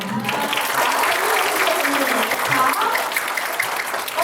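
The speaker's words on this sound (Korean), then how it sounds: "크게 박수 한번 치면서 1부 마무리하도록 하겠습니다" A camp concert audience claps steadily and fairly loudly for a few seconds, with voices mixed into the applause.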